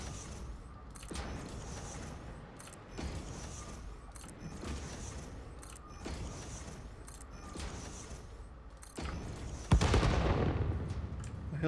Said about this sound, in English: I hear lots of massive explosions nearby.